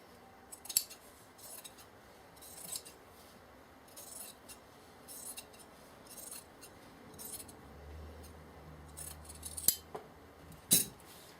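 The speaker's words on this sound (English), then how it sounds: "Trim away any excess lining at the top fold line." Scissors trim excess lining fabric from a Roman blind at the top fold line, producing scattered quiet snips and crisp metallic clicks at irregular intervals, with a couple of sharper cuts toward the end.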